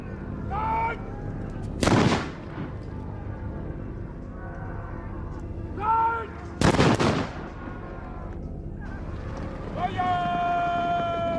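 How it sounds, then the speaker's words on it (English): Musket fire in a Nagashino samurai battle reenactment: two loud, sharp volleys crack out close by about five seconds apart, with tonal horn-like calls and a crowd murmur between them. "the Takeda clan for the first time braved musket fire"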